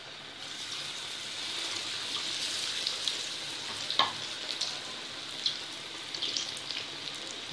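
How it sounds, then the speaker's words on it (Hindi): Bread pakora frying in hot oil gives a steady, close sizzle, with small pops and crackles rising above it now and then. "और इनको अब हम गोल्डन ब्राउन होने तक पकाएंगे।"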